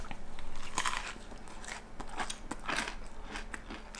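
Crunchy bites into a fried turkey sandwich, a few crisp crackling bursts close to the mic with chewing between them, no talking.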